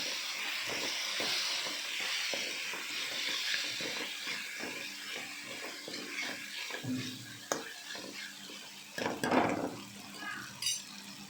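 Ginger garlic paste is stirred in a pan, with a soft continuous sizzle and scraping spoon strokes against the metal, plus a few louder clanks near the end.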